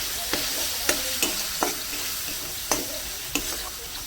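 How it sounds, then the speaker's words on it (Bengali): Spiced masala with softened tomato sizzling in a pan for a prawn, bean, potato and cauliflower curry, a steady fry broken by about six sharp scraping spatula strokes at uneven intervals, close and fairly loud. "এবারে ভালো করে কষিয়ে নেবো মশলাটাকে"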